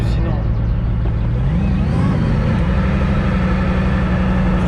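A Bugatti cruising at about 60 km/h during a Gumball 3000 rally, a deep engine hum filling the cabin and rising slightly in pitch midway before settling into a steady drone.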